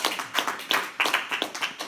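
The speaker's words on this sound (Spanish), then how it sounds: "Vámonos un aplauso al Señor." Scattered hand claps from a small group in a church class, loose and uneven bursts close by with gaps between them.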